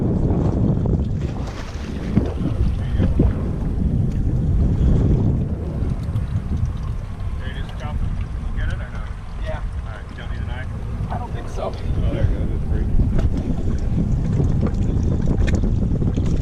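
On an offshore fishing boat in the Florida Keys, an outboard motor drones steadily throughout, partly buried under gusty wind noise on the microphone and faint background voices.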